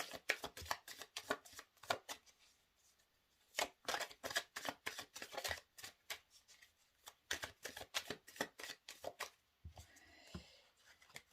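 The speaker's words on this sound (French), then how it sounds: "J'ai du mal à battre les cartes." Tarot cards being shuffled by hand in a series of crisp riffles and slaps, close and distinct, with brief pauses between bursts and no talking.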